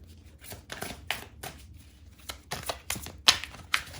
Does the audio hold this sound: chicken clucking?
no